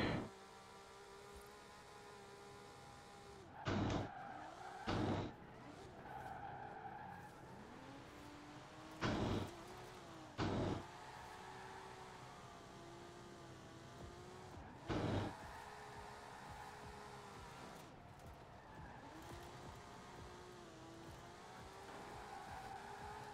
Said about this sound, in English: Car is harder to drift than I thought.